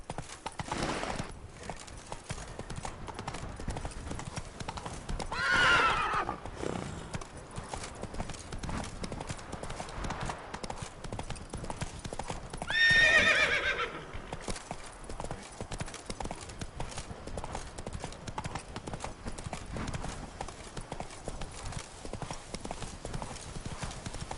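Horse galloping in The Witcher 3, a steady rapid run of hoof clip-clops through most of the stretch, with two brief louder swells over the in-game ambience.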